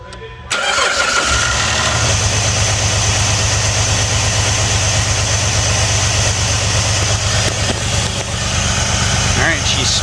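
A 2006 Jeep Liberty Sport 4WD 3.7L engine with a misfire starts up and settles into a loud, steady idle rumble close by, with a voice speaking briefly over it.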